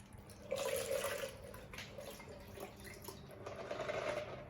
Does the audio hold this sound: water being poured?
yes